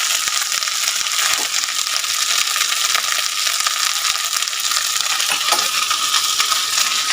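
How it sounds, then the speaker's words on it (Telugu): Spices frying in a pan for homemade chili powder, a steady loud sizzle with dry rattling and stirring scrapes, close by and continuous with no talking. "ఇప్పుడు అవి రెండు వేయించుకుంటున్నాను నేను."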